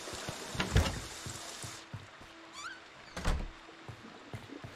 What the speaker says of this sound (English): You don't gotta close doors all the time.